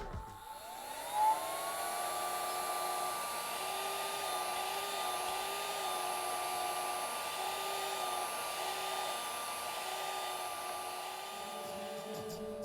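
A small USB-powered mini vacuum with a brush attachment runs continuously on a model train setup, a steady high whirring hum with a faint rising start and a gently wavering tone throughout.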